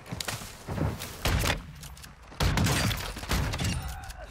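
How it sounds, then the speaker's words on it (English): Heavy shotgun slug blasts boom in a first-person shooter game, several loud thudding shots spaced out with a busy game soundscape between them and no talk. "Three slug shots to kill."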